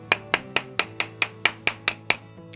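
A hammer strikes a solid aluminum foil ball ten times in a steady rhythm, each blow a sharp, ringing metallic knock that decays quickly, close and clear with nothing else heard.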